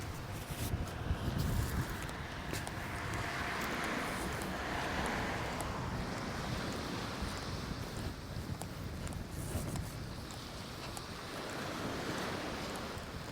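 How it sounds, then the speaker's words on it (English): Ocean waves roll onto the shore at a beach near the Old Head of Kinsale, a continuous surging wash with wind buffeting the microphone, moderately loud and unbroken, without speech. "you just can't beat the noise of the waves coming into the shore"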